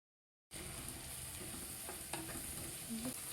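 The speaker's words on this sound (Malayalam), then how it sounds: "എണ്ണ നന്നായി തിളച്ച് കഴിയുമ്പോൾ അതിലേക്ക് നമ്മൾ അരിഞ്ഞു വെച്ചിട്ടുള്ള ഇഞ്ചി, വെളുത്തുള്ളി, സവോള, പച്ചമുളക് എന്നിവ ഇടുക" Chopped ginger, garlic, onion and green chilli hit hot oil for a beef fry, sending up a steady hiss of sizzling with occasional scraping taps of a spoon stirring the pan, close and continuous after a brief silence.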